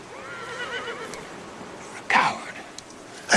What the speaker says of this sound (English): The horses are so tired, their legs are trembling.